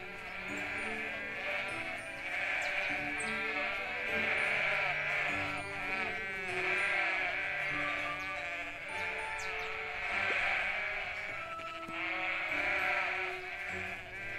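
Sheep in the video game Everdream Valley bleat almost continuously, several overlapping wavering calls rising and falling at close range for the whole stretch.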